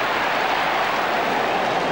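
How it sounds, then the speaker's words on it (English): Middlesbrough football fans let out a broad, steady cheer from the stadium crowd, a dense, even roar of many voices lasting about two seconds with no single voice standing out. "Almost an ironic cheer from the Boro fans."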